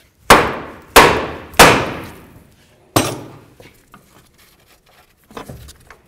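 A hammer strikes a steering knuckle on a 1998-2002 Honda Accord to break the tie rod end free: three sharp metallic blows in quick succession, a fourth after a pause, then softer taps, close and loud.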